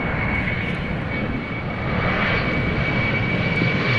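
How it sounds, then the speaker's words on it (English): An Embraer 192 jet takes off from Amsterdam Schiphol bound for Billund, a loud, steady engine roar with a thin high whine held throughout, swelling slightly midway. "Embraer 192 Billund. Taking to the sky."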